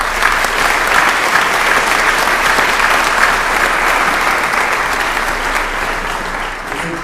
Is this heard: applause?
yes